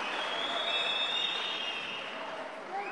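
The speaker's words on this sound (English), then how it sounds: "And the crowd respond to that one." Crowd at an MMA fight reacting with a steady roar and cheering throughout, loud and continuous, swelling slightly near the end.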